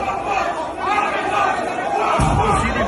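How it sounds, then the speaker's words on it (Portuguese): Santa Cruz football supporters pour into the stands with a loud, dense roar of crowd chatter and shouting voices that swells in the final second. "Torcida invadindo tudo aqui, ó."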